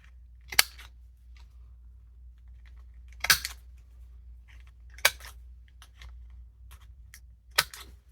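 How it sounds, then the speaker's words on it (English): Scissors snipping the corners of a paper envelope decoration in a quiet room, giving four sharp, isolated cuts spaced a second or two apart with faint rustling between them. "Should I trim the corners up a little bit?"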